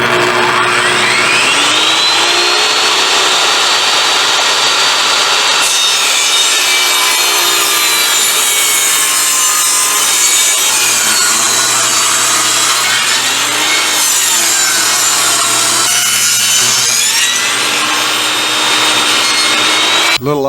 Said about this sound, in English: You can hear how much more the saw labors when you're cutting through the grain in that direction instead of ripping.